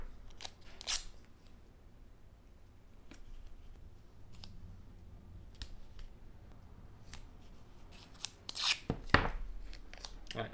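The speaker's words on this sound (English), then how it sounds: "I'm going to start by putting a bit of tape on these just so I don't mark them" Tape being pulled and pressed onto the knurled screws of HiFiMan Edition XS headphones, a series of faint, sharp crackles and tearing snaps scattered across a quiet room, busiest near the end.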